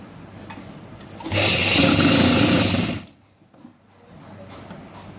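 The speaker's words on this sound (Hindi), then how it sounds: "इसको अंदर फोल्ड करके इसके किनारे किनारे चारों साइड से सिलाई लगा देनी है" A sewing machine stitches along the folded edges of fabric for a salwar, a loud steady whir running for about two seconds, then stopping, with quieter room noise before and after.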